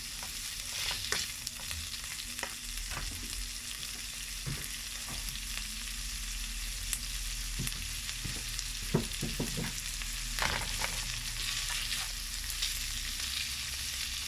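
Bacon fries in a pan with a steady, quiet sizzle, punctuated by scattered pops and the occasional scrape of a utensil, and no one talks.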